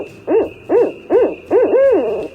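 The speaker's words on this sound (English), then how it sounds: "The barred owl. We're going to meet the barred owl in just a moment." Barred owl hooting: four rising-and-falling hoots in a steady rhythm, the last one longer and drawn out, close and clear over a faint steady background hum.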